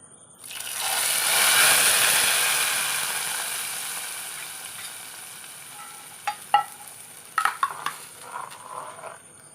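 Hot tempering of small whole dried chillies and curry leaves poured into a cucumber buttermilk curry, a loud burst of sizzling that swells then slowly fades, followed by a few clattering pan and spoon knocks.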